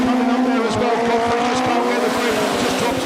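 Autograss race cars roar around a dirt track, engines droning loud and continuous with shifting pitch as they pass, while a commentator talks over the racing.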